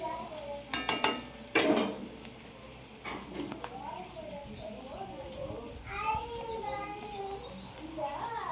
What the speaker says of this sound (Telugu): అవి కొంచెం వేగుతున్నప్పుడే కరివేపాకు, కొంచెం ఒక రెమ్మ కరివేపాకు వేస్తున్నాను.